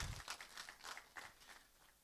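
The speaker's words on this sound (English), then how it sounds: "Another big round of applause" Short round of applause from an audience at a school of engineering conference, many hands clapping close together and fading out within a couple of seconds.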